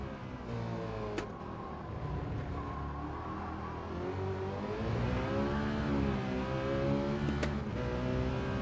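Racing game car engine revving steadily as the wheels spin up after hitting a curb during a time trial, a continuous whirring drone with rising and falling pitch throughout.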